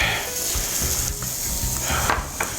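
Diced pepper bacon with onions and salt sizzles and fries in a pan, a steady close crackle with occasional scrapes and stirring clinks.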